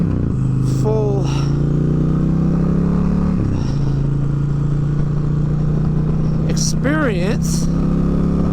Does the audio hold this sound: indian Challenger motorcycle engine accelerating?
yes